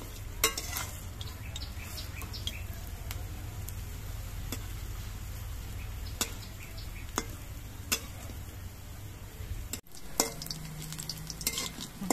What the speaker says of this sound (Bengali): বড়াগুলোর এক পিঠ ভাজা হওয়ার পর আমি উল্টে নিচ্ছি, দু পিঠে আমি ভালো করে ভেজে নেব।